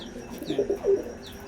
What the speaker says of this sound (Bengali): আর এখানে এক জোড়া পায়রা রেখে দিয়েছি